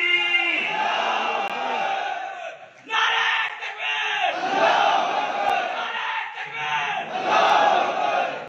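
A large crowd at a political rally shouting the takbir religious slogan in unison, loud massed voices in repeated surging call-and-response bursts with brief dips between them.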